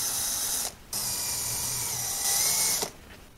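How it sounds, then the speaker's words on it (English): A power drill bores holes into MDF side panels of a small drive case. Two loud, steady whirring bursts run close up, separated by a short pause. "And then I drill the four holes, two on each side."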